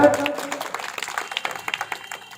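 Applause from an audience welcoming a politician at the opening of a BJP candidate's office, a scattered patter of claps continuing for a few seconds after an announcer's voice.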